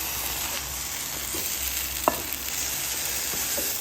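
Okra (bhindi) with curd fries in a pan, giving a steady hissing sizzle with a couple of small pops and scrapes. No voices are heard.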